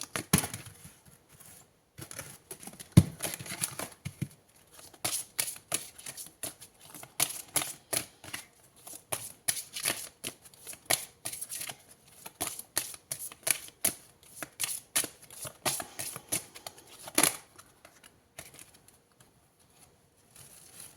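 Tarot cards are shuffled and drawn in a rapid, uneven run of crisp flicks and riffles, close and fairly quiet, with no voice over them.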